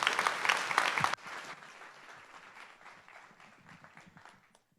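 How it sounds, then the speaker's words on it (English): An audience applauds after a tech talk: a loud burst of clapping for about a second, then softer scattered clapping that thins out and fades over the next few seconds. "please give him a round of applause"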